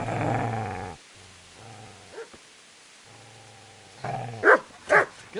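A dog in the medieval game Kingdom Come: Deliverance growls low and steadily, pauses, growls again, then breaks into a few sharp, loud barks near the end.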